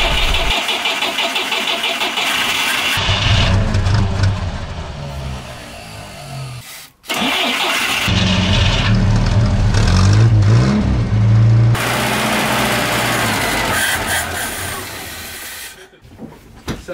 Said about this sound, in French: on va déjà tenter de démarrer ce moteur au gaz